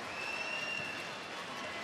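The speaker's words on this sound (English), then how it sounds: "there's a little bit of disgruntled crowd reaction to that score from Kyla Ross" A disgruntled crowd reacts to a score in the arena at the 2013 Gymnastics World Championships floor exercise final, a dense, steady roar of voices and clapping filling the space from start to finish.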